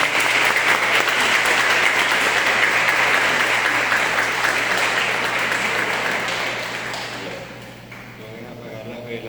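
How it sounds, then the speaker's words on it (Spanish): A church congregation claps during Mass, a dense, sustained round of applause that tapers off toward the end as a voice briefly speaks. "Vamos a darle un aplauso a Limari por ahí."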